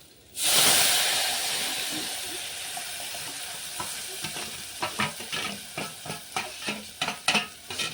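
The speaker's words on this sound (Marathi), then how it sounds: "आता छान असं फ्राय करून घेऊया" Ground spice paste hits hot oil with a loud hiss that settles into a steady sizzle for a village-style chicken curry, joined by rhythmic scraping stirs.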